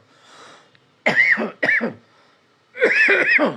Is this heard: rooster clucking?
no